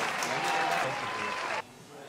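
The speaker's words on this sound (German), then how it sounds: "Also einmal klatschen jetzt." A group claps together in a dense burst of applause lasting about a second and a half, then stops abruptly.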